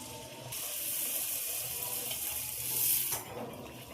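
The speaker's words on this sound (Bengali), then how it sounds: "আবারও ছেড়ে দিলাম ভাজার জন্য" Naan made with chhena fries in hot oil with a soft, continuous bubbling sizzle that swells slightly near the end, then shifts abruptly as the cooking sound thins out.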